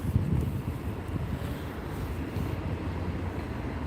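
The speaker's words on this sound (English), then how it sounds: "this train departs in approximately 5 minutes" A train at Gloucester station gives off a steady low rumble, mixed with wind buffeting the microphone, with no voices.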